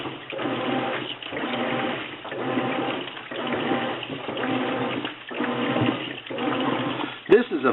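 A $558 Whirlpool washing machine running with water, a steady churning swish that rises and falls in regular cycles, close and moderately loud, with a brief clunk near the end.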